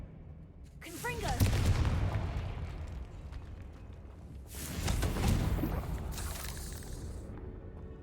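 Confringo fire spell blasts from Hogwarts Legacy, two loud fiery bursts with a rushing roar, one near the start and another about midway, each trailing into a rumbling decay over game ambience.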